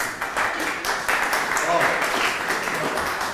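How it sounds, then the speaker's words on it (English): Audience at a public meeting on the Essendon Airport curfew clapping steadily for a few seconds, a dense, moderately loud patter filling the room with murmured voices mixed in. "Don't need to clap."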